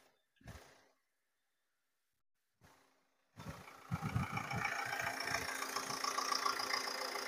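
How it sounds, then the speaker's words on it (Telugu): A 2017 Ford EcoSport diesel engine idles after two short knocks and a pause, settling into a steady close rumble with a rhythmic diesel clatter. "ఒకసారి నేను ఇంజన్ కూడా చూపిస్తున్నాను"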